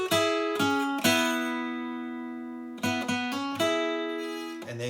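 Acoustic guitar plucking a riff: clear, close ringing notes and double stops that are struck in bursts and left to decay, with no talking.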